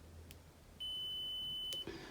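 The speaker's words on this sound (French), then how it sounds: "Ça bip, c'est qu'il y a une continuité." A multimeter in continuity mode gives a single steady electronic beep, about one second long and clear against a quiet background, while testing car switch wiring.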